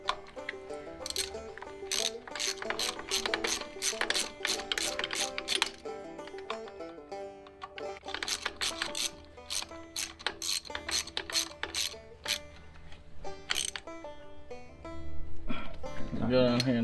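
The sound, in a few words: ratchet tightening bolts on P7100 injection pump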